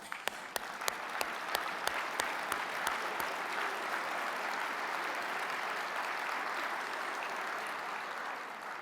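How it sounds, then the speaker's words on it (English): A conference audience gives a round of applause, the steady dense clapping of a large crowd sustained throughout at moderate distance, a few sharper individual claps standing out near the start. "and a round of applause."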